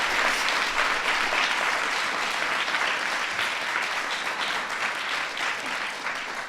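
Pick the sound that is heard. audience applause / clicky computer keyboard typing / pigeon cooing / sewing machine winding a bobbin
audience applause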